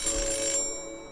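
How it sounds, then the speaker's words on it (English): A telephone rings in a visual novel video game, a single bright electronic ring burst that cuts off abruptly and leaves a faint fading tail, heard alone without talk. "the phone rang again."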